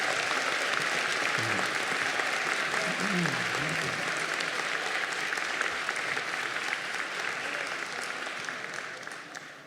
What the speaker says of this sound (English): would you please stand and receive an applause